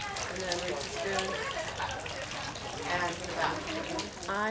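Water splashing and pouring at a temple purification fountain as hands and a ladle are rinsed, a steady nearby trickle and gush with voices talking over it.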